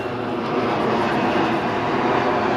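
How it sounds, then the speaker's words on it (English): An old airplane passing overhead above a cemetery, a steady broad engine roar filling the air throughout with no talking. "old plane going overhead"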